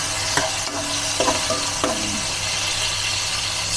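Chicken frying in its own rendered fat, with a steady close sizzle throughout and a few soft stirring scrapes near the start.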